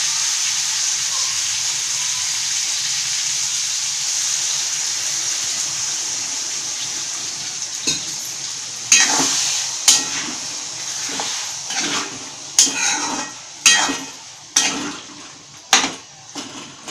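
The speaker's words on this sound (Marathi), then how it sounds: "आता पाण्याचा एक हापका मारू आपण" Frying chicken gravy hisses softly in the pan, then a splash of water goes in and sharp bursts of sizzling and scraping follow in an uneven run of loud clatters.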